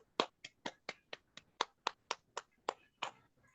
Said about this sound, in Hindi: चलिए बच्चों के लिए ताली बजाएंगे